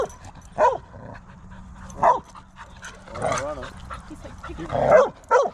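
A dog barks in short, sharp bursts at another dog in a dog park, several loud barks spaced irregularly amid whimpers and yips, with people talking nearby.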